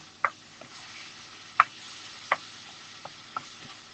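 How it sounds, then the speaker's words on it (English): Spoon scraping and knocking in a pan of beans and sweetcorn, five distinct clicks spaced irregularly over a quiet background, close and fairly soft. "Give that a stir."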